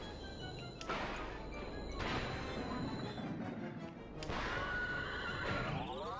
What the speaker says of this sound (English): my horse guy straight up sounds like he's doing the Wilhelm scream